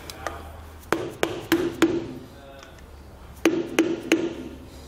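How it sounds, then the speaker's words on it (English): A flat blade screwdriver taps the outer lip of a trailer axle hub back into place, making crisp metallic pings and clinks in two close bursts of about four strikes each, with quiet pauses between. "grabbing a flat blade screwdriver, kind of tapping along that outside lip, carefully knocking it"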